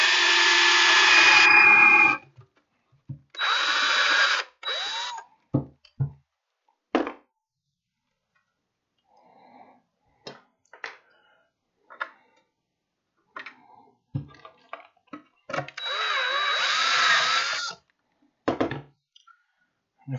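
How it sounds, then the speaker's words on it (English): A power drill whirs in three loud bursts of a couple of seconds each, separated by quiet gaps with small knocks and clicks. "Just freaking drill away."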